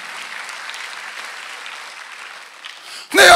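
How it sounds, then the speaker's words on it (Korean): A church congregation at a Sunday worship service applauds, a soft, steady wash of many hands heard from a distance, ending in a sudden loud burst close by. "박수하세요."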